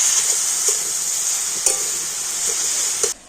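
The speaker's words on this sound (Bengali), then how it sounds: "এইভাবে নাড়াচাড়া করে দেখুন বুটটা কিন্তু খুব ভালো মতো গলে যাবে" A chickpea lentil filling is stirred in a hot pan, giving a loud, continuous hiss of frying with a few sharp scrapes and knocks of the spoon against the pan. The noise cuts off abruptly near the end.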